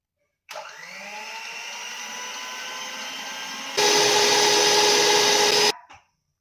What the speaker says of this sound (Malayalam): അപ്പോ ഇനി നമ്മൾക്ക് ഇത് ബ്ലെൻഡ് ചെയ്യാം